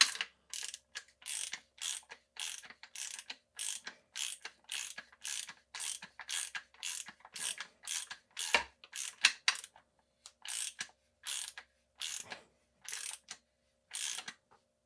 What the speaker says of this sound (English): I'm going to use the ratchet